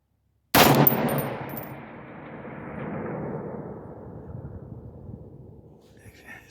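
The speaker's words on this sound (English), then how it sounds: "I'm going to take a shot" A single sharp rifle shot from a 16-inch Palmetto AR-10 fired outdoors, a loud crack followed by a long rolling echo that fades slowly over several seconds.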